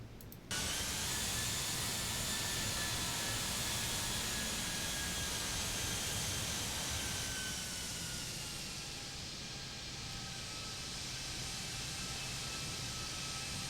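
Thrust reversers on a simulated Airbus A319 with IAE engines after landing: a loud, steady broadband jet roar with a thin whine on top, swelling at once and easing slightly near the end, with no voices.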